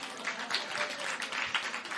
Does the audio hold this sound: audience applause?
yes